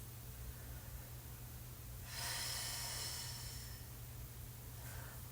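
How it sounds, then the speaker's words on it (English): A person lying down in a post-race stretch takes a slow, audible breath, one soft airy rush lasting about two seconds over a quiet low hum, with a fainter breath at the end. "Three deep breaths."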